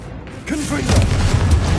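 A Confringo blasting curse goes off in a video game: a shouted spell voice leads into a low, rumbling burst that swells and lingers for over a second.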